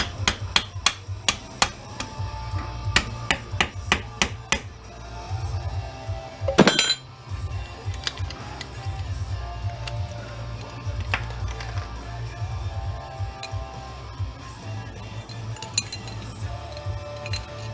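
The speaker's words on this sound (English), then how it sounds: "There I go, use my hand for a hammer again." Sharp metallic knocks and clinks as metal parts of a Husky jump starter are struck by hand during scrapping, scattered irregular hits close by over a low hum, with one louder clatter midway.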